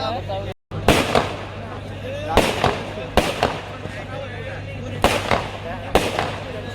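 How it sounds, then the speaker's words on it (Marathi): Sharp firecracker bursts crack out in loose clusters over a steady crowd murmur and a low hum, each pop loud and close, at a palkhi procession in Navi Mumbai. "पालखी आल्या फटाक्यांची आतिषबाजी केलेली आहे बघा"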